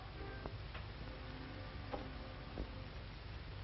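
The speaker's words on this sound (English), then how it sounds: "Here's my alarm clock." Quiet, steady ticking of a small alarm clock in a bedroom, faint clicks repeating at a regular pace with a few slightly louder ticks over low background hum.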